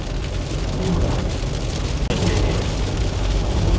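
Heavy rain pours steadily on a car driving along the Dwarka Expressway, a dense, constant hiss and patter of drops drumming on the roof and windshield over the low road rumble, with no voices.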